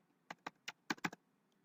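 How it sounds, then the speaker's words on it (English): Six crisp keystrokes on a computer keyboard, tapped quickly and close while typing into a Microsoft Word document, with a short double tap near the end and quiet between. "Then I'll type the total there."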